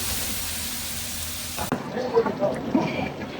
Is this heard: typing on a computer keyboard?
no